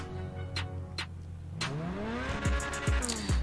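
A tuned car's exhaust revs in GTA Online, starting as a low steady engine drone and then climbing into loud, rising revs with repeated quick throttle blips and crackles, up close and without talk.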